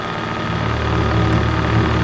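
A model twin-cylinder RC steam engine runs fast and steadily, giving a continuous, even mechanical drone with a low, vibrating hum and fine rapid pulsing, close up and unbroken throughout.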